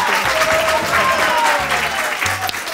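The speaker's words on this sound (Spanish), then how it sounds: "Y un aplauso del público, este sí." Studio audience of a Spanish TV talent show bursts into loud, dense applause, a continuous close roar of clapping with faint voices mixed in throughout.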